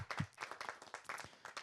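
Applause at a Hindi poetry gathering, quiet and somewhat distant, with uneven clusters of hand claps rising and falling over a short stretch.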